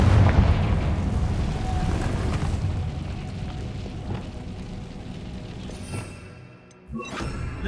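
Confringo fire spell explosion in Hogwarts Legacy, a loud deep rumbling blast with crackling debris that slowly decays, followed by a smaller second burst near the end, with no talk.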